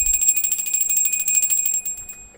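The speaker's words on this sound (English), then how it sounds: "we ring the bell" A small bell rung before a tarot reading rings out close and clear with a rapid shimmering trill of bright metallic strikes, then fades as the ringing stops.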